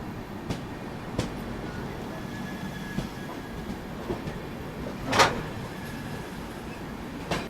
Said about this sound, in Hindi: सयाजी नगरी एक्सप्रेस दादर भुज टुवर्ड्स आपका भुज को जाने वाली है। ये अहमदाबाद में एंट्री ले रही है।